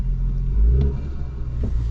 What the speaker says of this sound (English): as you start the engine, you can hear it like just pulling in the air at idle.